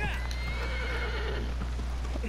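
A horse in Shadow of the Colossus whinnies loudly over rhythmic clip-clopping hooves, backed by a steady low game hum and a faint voice underneath.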